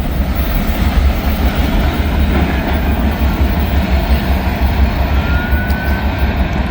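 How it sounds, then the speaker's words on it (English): A southbound Norfolk Southern train rolls past in the fog in Kentucky, a loud, steady rumble of wheels and cars sustained throughout with no voices. "Southbound Norfolk Southern train"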